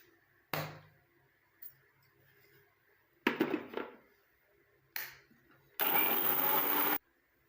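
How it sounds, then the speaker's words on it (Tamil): A mixer grinder powdering roasted ingredients whirs in short pulses, several brief bursts followed by a longer, louder run of about a second, with quiet gaps between. "இப்போ இதை மிக்ஸி ஜாரில் போட்டு நல்லா வந்து பவுட்ரு பண்ணிடலாம்."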